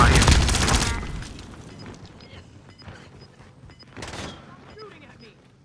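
Gunfire in Call of Duty: Modern Warfare: a loud burst of rapid automatic shots opens the moment, then scattered fainter shots, clicks and another short burst follow, with radio-style game chatter in the background.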